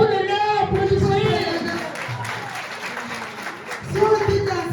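Applause at a school award ceremony at a college in Wora, honoring a top-ranked girl student; steady crowd clapping fills the scene, mixed with voices and a loud amplified speaker whose talk rises again near the end.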